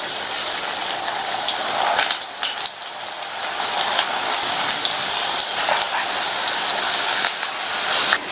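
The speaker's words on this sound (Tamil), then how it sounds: "கடாயில எண்ணெய் விட்டு சூடாயிடுச்சு. ஒவ்வொரு வெண்டைக்காய் பீஸா எடுத்து சேர்த்துக்கலாம்." Okra pieces fry in hot oil in a kadai, giving a dense, steady crackling sizzle that holds close and loud throughout, with brief bursts of sharper spitting.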